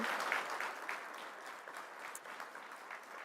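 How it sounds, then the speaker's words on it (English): Audience applause at a Heartland Summit policy event featuring a senator, a steady wash of clapping from a large crowd that holds fairly level throughout, slightly stronger at the start, with no talking over it. "And that is an applause line."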